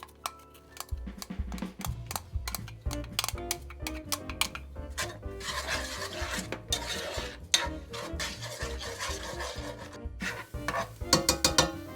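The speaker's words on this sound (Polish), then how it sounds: "wrzucę cebulkę i będę podsmażał tak przez 5 minut, nie dłużej" Onion frying and being stirred in a pan for spring rolls, with steady sizzle under frequent metallic clinks and scrapes of a utensil against the pan, continuous and close throughout.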